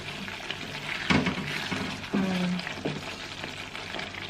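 Grated coconut serundeng dries out in a pan with a soft, steady frying crackle, marked by two or three louder scrapes and knocks of a spatula against the pan.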